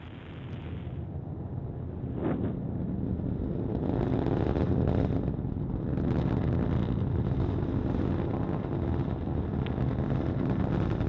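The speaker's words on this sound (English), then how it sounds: "And liftoff of the Delta IV rocket with GOES-O" Delta IV rocket carrying the GOES-O weather satellite lifting off, a sustained loud broadband roar with crackling rumble building and holding steady for the whole stretch, distant and wind-buffeted.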